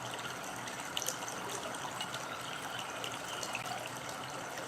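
Water poured steadily during a lunar eclipse full moon ritual, a continuous gushing, trickling flow heard close and alone for several seconds.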